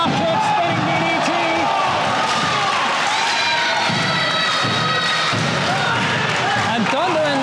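A live wrestling crowd at a Celtic Championship Wrestling show in Bishopstown cheers and shouts for a wrestler, a loud continuous roar with scattered yells and whistles, mixed with thuds from the ring and commentary talk.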